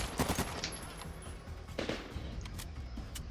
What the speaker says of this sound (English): I don't even really see where that guy's shooting me from